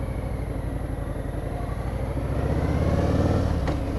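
A 2021 Harley-Davidson Fat Boy 114 motorcycle rounding a corner at low speed, its V-twin engine making a loud, close, rhythmic low throb that swells slightly as it accelerates out of the turn.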